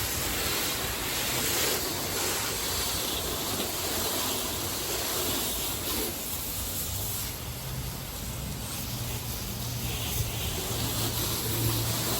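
Water sprays steadily onto a car finished with a graphene ceramic coating, a dense continuous hiss and splatter at close range, loud and unbroken throughout, with no talking.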